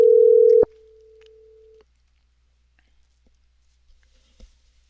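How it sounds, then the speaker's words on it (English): A telephone line tone sounds while a radio host dials a guest on air: a loud, steady tone for just over half a second, then a quieter tone that runs another second before cutting to near silence with faint clicks. "Let's get Jeff on the line right now"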